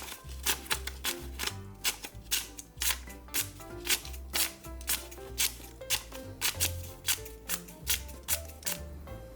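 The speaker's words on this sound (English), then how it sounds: "Look at how effortlessly these scissors cut smooth curves through paper." Freshly sharpened scissors snip smooth curves through paper in a steady run of crisp, close cuts, each a short bright slice repeating at a quick even pace with no talking.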